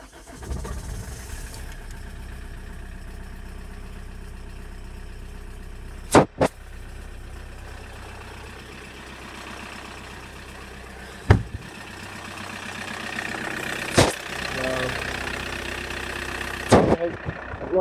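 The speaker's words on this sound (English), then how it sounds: "I'll start it now. This is what it sounds like." 2003 Toyota Corolla 2.0 litre D4D diesel cold-starting at 6 °C, cranking then settling into a steady near idle, with several sharp knocks and bumps along the way.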